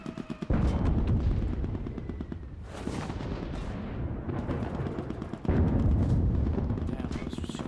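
Gunfire in the video game Rainbow 6 Siege comes as loud, harsh bursts of rapid shots, with dense volleys that break off briefly and then resume. The shots are close and dominate the scene.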